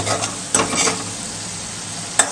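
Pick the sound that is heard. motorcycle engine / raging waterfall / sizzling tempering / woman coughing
sizzling tempering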